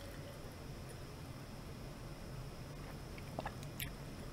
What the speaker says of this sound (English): I wish I wasn't still chewing.